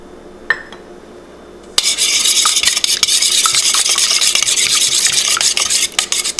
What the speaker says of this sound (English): Whisk 2 eggs with 1/3 cup of maple syrup,